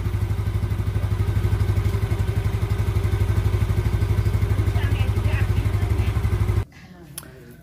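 A motorcycle engine idles close by with a steady, rhythmic putter and a deep pulsing note, running evenly for several seconds before cutting off abruptly near the end, leaving quiet handling noises.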